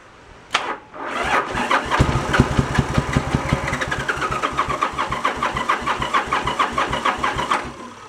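A 1986 Yamaha Virago 1100 motorcycle, both cylinders firing, starts with a loud crank and catches, then runs close and loud at an uneven, lumpy idle with a throbbing rhythm.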